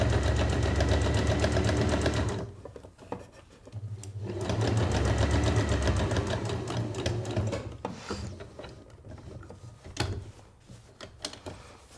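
A sewing machine top stitches a petal drawstring bag with a 4 mm stitch in two rapid, whirring bursts, each a couple of seconds long. Quieter mechanical clicks and handling noises follow.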